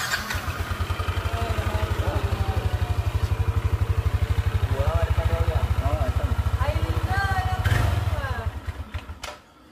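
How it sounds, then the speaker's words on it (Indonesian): Automatic scooter engine fired up after an oil change and spark plug refit, settling into a steady rapid putter of idling, close and fairly loud, with a person talking over it. "Dan motornya bisa kembali hidup ya teman-teman."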